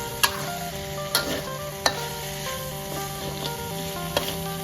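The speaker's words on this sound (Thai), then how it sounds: "นี่นะครับเริ่มใส่น้ำมันลงไปแล้วพี่น้อง" Oil sizzles in a pan while field rat with herbs is stir-fried, a steady frying hiss broken by a few sharp utensil clacks against the pan, with no talk.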